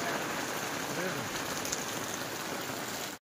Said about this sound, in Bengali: তাই না বৃষ্টি কখন থামবে, জলটা দিয়ে পড়ছে